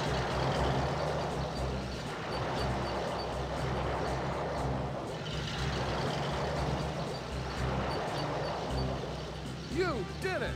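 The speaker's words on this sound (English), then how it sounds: "Ride the bulldozer to move the obstacles off the bridge and off the road." Heavy diesel rumble of a bulldozer pushing obstacles off a bridge and road in the Tonka Search and Rescue 2 video game, a steady loud engine drone with clanking and scraping, brief beeps and a rising whine near the end, with a voice talking over it.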